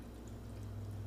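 Pineapple juice poured from a 64-ounce container into a crock pot, a steady low liquid stream running without a break, quiet and close.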